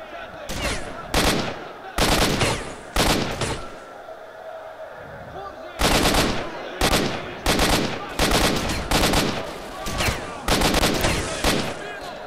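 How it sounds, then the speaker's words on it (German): Enemy gunfire, including shotgun and rifle, in the video game S.T.A.L.K.E.R.: Shadow of Chernobyl: loud, sharp bursts of automatic fire in repeated volleys with short pauses, while someone talks in between. "Wie oft kann er bitte schießen?"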